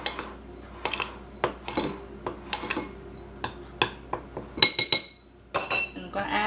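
Baking powder and salt being mixed into flour in a bowl for a tres leches cake, a run of close, irregular clinks and scrapes of a utensil against the bowl, with a brief louder clatter near the end.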